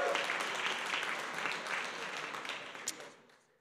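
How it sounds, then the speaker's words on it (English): Audience applause for startup pitch finalists at an angel investor summit, a dense wash of many hands clapping that holds steady, then thins and fades out near the end. "Can I get one more round of applause for the pitches tonight and all the finalists?"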